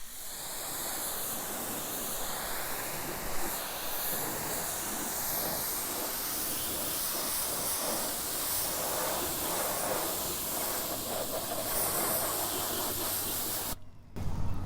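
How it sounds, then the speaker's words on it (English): Water spray rinses a muddy truck, producing a steady close rushing hiss that shifts slightly as the stream moves across the surfaces, continuing for about fourteen seconds before a brief break and a clunk. "So I'm gonna rinse."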